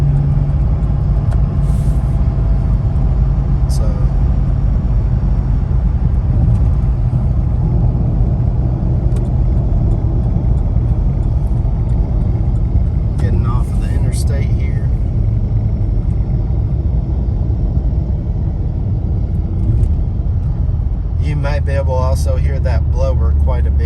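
A supercharged 416 stroker V8 car with a 2.38-inch blower pulley drives along, its deep engine rumble and road noise steady and loud throughout, with someone talking over it.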